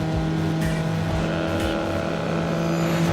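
Racing car engine in Need for Speed Underground on PS2, chasing an MX-5, drones steadily and loudly throughout with a sustained tonal whine and no voices.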